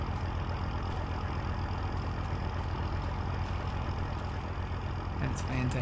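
A vehicle engine idles in Farming Simulator 25 with a steady, loud low rumble that holds evenly throughout, and a voice comes in briefly near the end.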